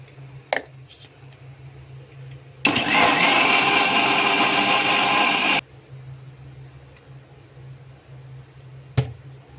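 A kitchen mixer grinder whirs loudly for about three seconds as it blends milk-soaked bread with eggs for a caramel bread pudding, starting and stopping abruptly between quieter room noise and a couple of faint clicks.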